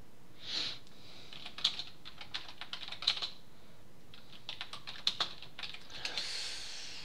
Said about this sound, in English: Do a little bit of typing.